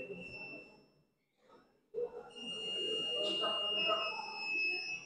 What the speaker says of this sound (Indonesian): Sekarang saya hubungkan ini ke buzzer.